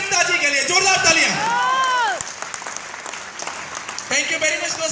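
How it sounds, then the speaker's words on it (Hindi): Audience clapping at a Hindi-language talk or meeting, loud and sustained at first while someone speaks over it, then thinning to scattered claps and swelling again near the end. "मैं चाहूंगा कि जोरदार ताली"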